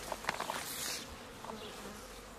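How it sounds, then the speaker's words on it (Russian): Honeybees buzz in a soft, steady drone close by, with a few faint rustles and clicks. "Очень спокойные пчелы."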